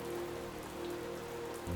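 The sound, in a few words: rain dripping and splashing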